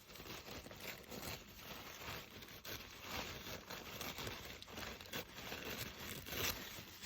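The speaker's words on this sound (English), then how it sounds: "So now I am tearing away some of the smaller flowers." Soft paper tearing and crinkling as small flowers are torn from a paper napkin for decoupage, close and quiet, a continuous rustle with brief rips.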